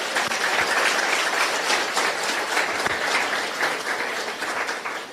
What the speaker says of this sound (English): Let's give a big round of applause to Vaishnavi.